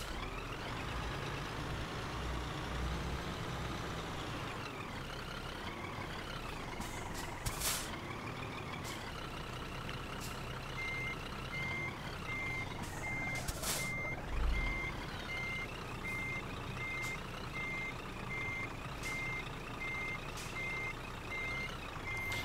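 Truck reversing in the Scania Truck Driving Simulator video game, with steady repeated reversing beeps over a constant engine drone and sharp hisses of air brakes, no talking.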